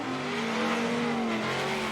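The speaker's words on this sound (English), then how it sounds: "That Viper nose slams down to fire from that side exhaust" Dodge Viper drift car engine blaring from its side exhaust during a drifting championship run, a loud sustained droning roar with a steady pitch that wavers slightly, close and continuous.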